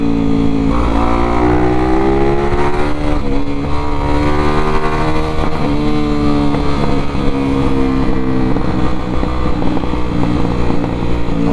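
A 299cc XRE motorcycle accelerates hard in traffic late in the day, its engine note climbing repeatedly through rising revs with gear changes, loud and close over constant wind noise.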